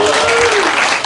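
Debate audience gives a loud, dense, steady round of applause that fills the whole short stretch without a break.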